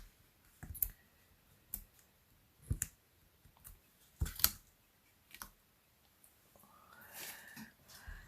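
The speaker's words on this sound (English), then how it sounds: "Now we can take the paper backings off of the dimensionals." Paper backings peeled one after another off dimensional foam adhesives for a handmade card, giving a series of short, crisp clicks and ticks with quiet gaps, close and alone, ending in a longer soft rustle.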